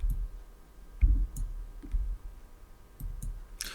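Computer mouse button clicked a few times in a scattered rhythm, close and crisp, with soft handling thumps between the clicks and no talk.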